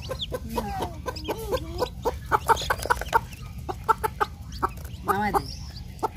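Chickens cluck close by in a rapid, uneven series of short clucks, with a louder flurry near the end, over low background noise.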